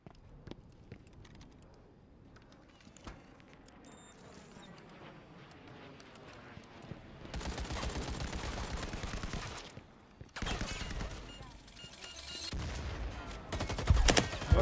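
Gunfire in the co-op tactical shooter Firewall Zero Hour: a quiet stretch with scattered faint shots gives way to sustained, loud bursts of rapid fire that stop briefly, then resume and build toward the end.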